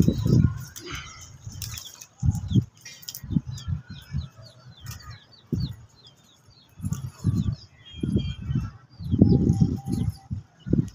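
Pigeons flap their wings in repeated bursts of clattering flight, some close and loud, with faint chirps in the background.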